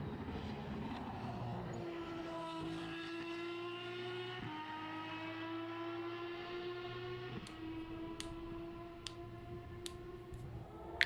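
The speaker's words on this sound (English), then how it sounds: "Literally sounds just like a jet engine." A steady, jet-like whining drone holds level tones that step up and down a few times, like an airplane pulling away, with a few sharp clicks near the end.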